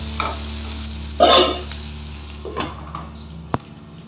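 Green chillies and onion fry in a pan for a fish curry, a low sizzle broken by stirring bursts and scrapes and a sharp clink near the end, with no voices.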